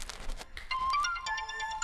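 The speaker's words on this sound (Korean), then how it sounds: "전화 왔다." A phone's melodic ringtone chimes for an incoming call in a Korean home setting, playing a short rising tune of bright tones over faint room noise.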